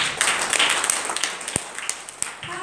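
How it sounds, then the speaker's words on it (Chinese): An audience applauds at a 2015 presentation on healing burns, a dense burst of clapping with sharp individual claps standing out, fading toward the end. "给他一个掌声。"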